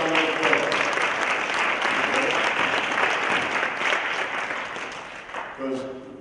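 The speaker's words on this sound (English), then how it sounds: "Give yourselves a round of applause." Audience applause at an Occupy Prison event on immigration, detention and incarceration, a dense, steady roar of many hands clapping, with some cheering, holding loud for several seconds and tapering slightly near the end.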